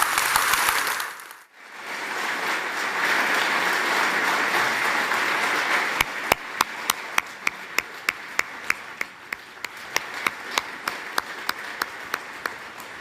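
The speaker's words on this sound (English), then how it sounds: "So applause for Jeremy Corbyn's speech in Coventry." An audience in Coventry applauds at length after a Jeremy Corbyn political speech on Brexit. Dense crowd clapping breaks briefly, resumes, then tapers into a few distinct, rhythmic single claps near the microphone.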